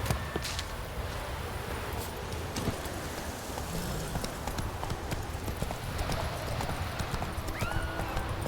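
Roach, the horse in Witcher 3: Wild Hunt, gallops in a quick, even hoofbeat rhythm, close and steady over a dense outdoor game ambience, with a brief whinny partway through.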